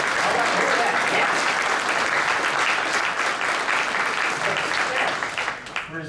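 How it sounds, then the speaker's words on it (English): A conference audience claps loudly and continuously, a dense sustained burst that begins to thin out near the end. "Somebody start clapping"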